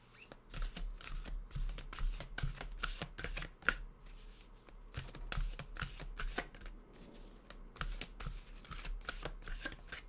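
A deck of oracle cards is shuffled close up. Quick bursts of riffling and flicking card slaps repeat in an irregular rhythm, fairly soft, with no talking.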